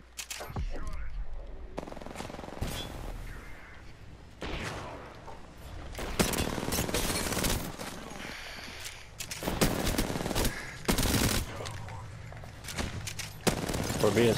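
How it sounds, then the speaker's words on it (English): Gunfire from a sniper battle in the video game Apex Legends: repeated loud cracks and bursts spread across the clip, some in rapid clusters, over a constant background rumble with a voice talking at times. "We're being sniped"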